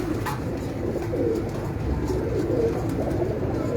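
Breeder pigeons coo steadily and continuously at a loft kept by a pigeon fancier in Gujranwala, a dense murmur of many birds close by with no talk over it.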